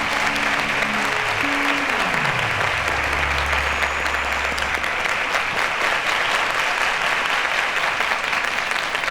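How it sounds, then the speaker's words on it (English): A studio audience on the quiz show Cowbellpedia gives a full, steady round of applause that lasts throughout, with a short tonal musical sting at the start and no talking. "A round of applause to Goodness, please."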